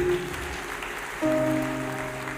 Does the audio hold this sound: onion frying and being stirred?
no